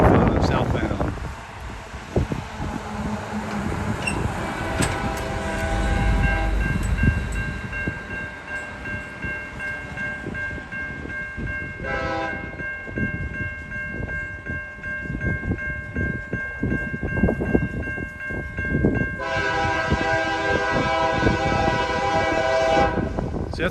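A long southbound fast freight train with four locomotives, two leading and two mid-train DPUs, rumbles past a road crossing, sounding loud horn blasts over wind noise on the microphone.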